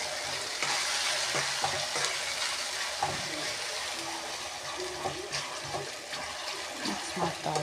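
Curry being stirred in oil in a pan, a continuous sizzle and fry with repeated spatula scrapes and clinks against the metal, close and moderately loud.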